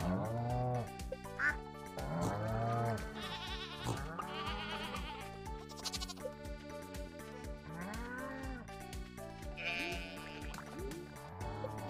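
Sheep bleat repeatedly in the Stardew Valley farming game, cartoonish calls over cheerful background music with farm animal sounds.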